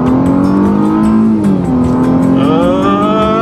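A 2012 Mercedes-Benz C350 Coupe on a Colorado road under full-throttle acceleration, its engine loud and close, rising steadily in pitch through the gears with a brief dip at a shift.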